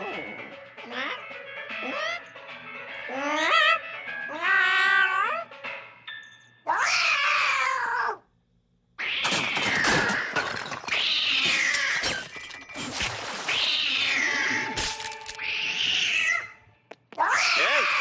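Cartoonish cat meows and drawn-out yowls repeat in bursts, loud and close, broken by brief pauses and mixed with other voice-like sounds, from the Telugu-dubbed cartoon Kid vs Kat.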